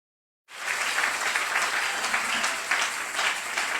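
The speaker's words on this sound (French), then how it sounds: "Et si vous l'aimez qu'on acclame" Applause from a congregation at a Sunday church service, starting abruptly after a brief silence and holding as steady, sustained clapping.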